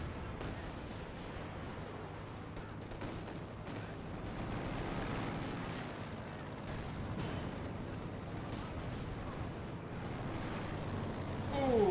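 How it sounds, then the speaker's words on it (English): A Katyusha rocket barrage pounds away in a Company of Heroes 2 battle, heard as a rolling stream of distant, overlapping blasts and artillery thuds that continues under a busy wartime soundscape. "Do I hear a Katusha barrage? Yes, we do see a Katusha barrage."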